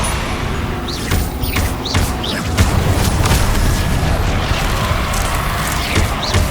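Booming blasts from a Confringo fire spell burst in Hogwarts Legacy combat amid a dense, loud clatter of thuds and whooshes.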